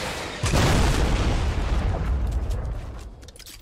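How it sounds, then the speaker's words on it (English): In the Fortnite video game, a homing rocket explodes with a sudden heavy boom, followed by a long roaring, rumbling tail that slowly fades over a few seconds. "Homing rocket right now."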